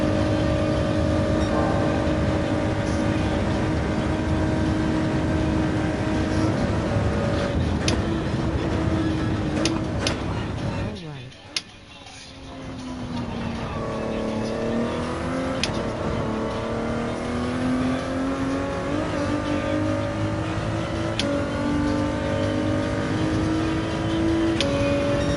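Race car engine in Gran Turismo 7 held at a loud, steady drone through a lap, with pitch climbing through gears, a sharp drop and brief near-silent gap midway, then revving back up and shifting again.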